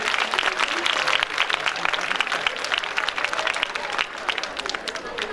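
An audience applauds teachers at a public gathering, producing dense, sustained clapping from many hands that stays loud and even throughout.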